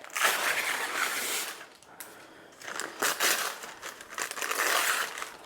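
Parchment paper torn off by hand while preparing bread dough, a loud close crinkling rip that runs in two long bursts with a short pause between, no voices.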